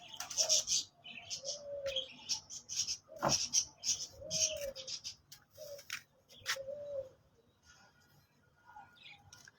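Pigeons coo nearby in low, soft, rolling calls, mixed with sharper chirps and a few quick flutters against a quiet background.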